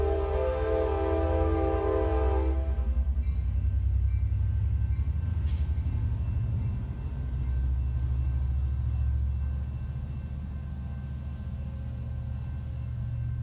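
A loud train horn sounds a sustained blast, then cuts off, leaving the low rumble of a passing train continuing alone.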